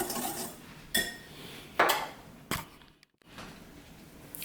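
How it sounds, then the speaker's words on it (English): Curing salt mixture whisked into a spread for homemade bacon, a few separate clinks and scrapes of a whisk against the bowl, spaced out and fairly quiet with short pauses between strokes. "you simply just make sure to whisk this and get it all incorporated into one kind of easy spread"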